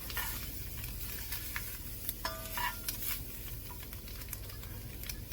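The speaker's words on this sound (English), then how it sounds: "I'm going to add 3 stalks of celery, leaves and all, in there that I chopped up." Chopped celery stalks with leaves stirred into a hot gumbo roux for collard green gumbo, a steady close sizzle under soft scraping and a few utensil clinks.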